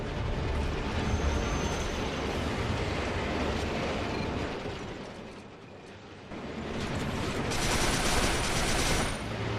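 Train in the video game Resistance 3, a steady loud rumbling mechanical roar with rattling and bursts resembling gunfire, dipping briefly midway before swelling again toward the end.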